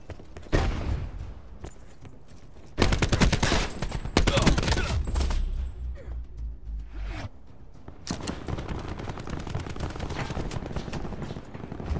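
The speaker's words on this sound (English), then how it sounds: "War machine gun." Rapid, sustained War Machine gunfire from Call of Duty 4 multiplayer, loud close bursts with short gaps between them, dense chattering shots filling most of the stretch.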